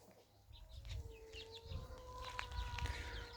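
Broody hens cluck softly while their small chicks peep in high, scattered chirps, fairly close, with low rumbling noise underneath.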